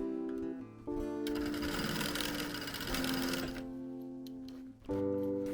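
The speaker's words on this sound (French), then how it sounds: "Je réalise maintenant une surpiqûre nervure de chaque côté." A sewing machine runs a steady topstitching seam on a zipped pocket, a close, continuous mechanical whir lasting several seconds between brief pauses at the start and end, with no talk.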